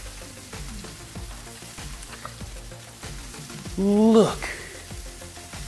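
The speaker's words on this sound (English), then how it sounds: "We're gonna throw them in the skillet with a little bit of olive oil." Mushroom steaks sear in olive oil in a skillet with a continuous crackling sizzle; someone speaks briefly partway through.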